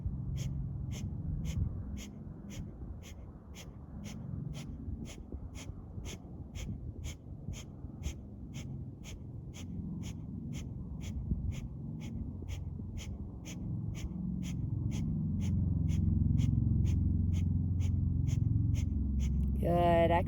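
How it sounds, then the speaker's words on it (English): Fast, rhythmic forceful breathing of yoga breath of fire, steady pumped exhalations continuing throughout beneath a repeating high tone, with a brief voice near the end. "breath of fire, interlacing the fingers together"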